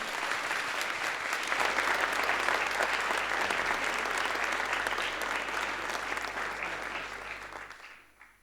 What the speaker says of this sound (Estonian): Teeme neile ühe suure aplausi.